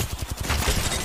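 Rapid bursts of gunfire from an Apex Legends firefight, a fusillade of overlapping shots rattling close and loud through the whole second with no talk.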